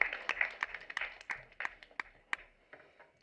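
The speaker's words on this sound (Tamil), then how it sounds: "ஒரு பெரிய கைத்தட்டல் கொடுக்கலாம்" Audience applause at a Tamil film audio and trailer launch event sounds like a small group of hands clapping unevenly, sharp separate claps that thin out and fade over a few seconds.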